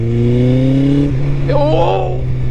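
Honda X-11 motorcycle with a new aftermarket exhaust, its steady engine drone dropping in pitch at a downshift, then rising and revving with burbling exhaust notes, loud and close, under a man's speech.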